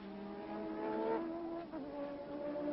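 Formula 1 race cars from 1985, including a Honda-powered Williams, a Lotus, a Renault and a Zakspeed, roar at high revs from an onboard camera, the engine note rising and dipping through gear changes, steady and slightly muffled.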